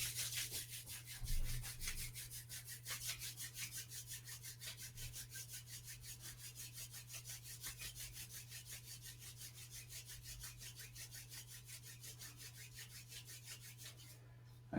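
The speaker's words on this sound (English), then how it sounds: "We're going to rub our hands together." Two palms rubbing briskly together in a fast, even back-and-forth rhythm, close and soft, continuing for about fourteen seconds during a shiatsu self-care breathing session; no voices.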